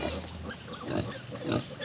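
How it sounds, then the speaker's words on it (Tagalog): Pigs on a farm grunt and squeal close by in a short burst of overlapping snorts, one struggling to reach a sow's teat, loud against a noisy background. "may isang baboy nahirapan siya pumunta dun sa dede"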